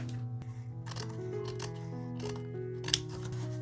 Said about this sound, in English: I'm going to cut around the handkerchief to remove any excess